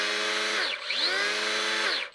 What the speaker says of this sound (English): Pull this down to operate it.